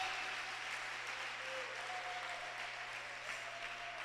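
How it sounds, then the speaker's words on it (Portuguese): Church congregation applauding during a Portuguese-language sermon, a steady wash of clapping that fills the clip at moderate volume, with a faint sustained tone underneath. "E os que creem aplaudam ao Senhor."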